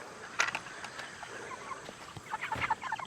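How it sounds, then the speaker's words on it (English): Chickens in a coop give soft, scattered clucks and murmurs, faint and close, with a couple of brief clusters of calls over quiet background. "Hello, chickens."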